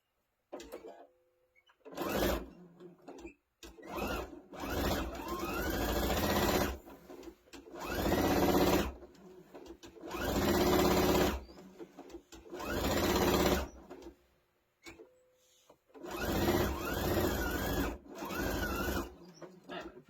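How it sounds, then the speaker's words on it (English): A sewing machine stitches quilt fabric squares cut from a layer cake precut, running in about six loud bursts of rapid whirring separated by short pauses, with no talking. "I'm going to sew and then twirl it around and sew a 1/2 inch so I can get 2 squares out of 1."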